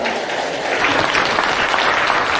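Wedding guests applaud to welcome the groom's father forward, a dense, steady round of clapping from a roomful of people, fairly close and even in loudness, with no talking over it.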